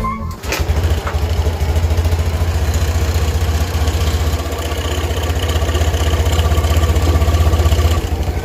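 A motorcycle engine idles after being keyed on and started, a low steady rumble right up close that stays even and continuous with no voices over it.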